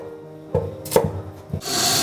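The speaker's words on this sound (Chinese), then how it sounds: "我们把它切成萝卜片" A kitchen knife cuts radish for a soup, giving a few crisp, close chopping strokes against a wooden board, followed by a brief rustling scrape.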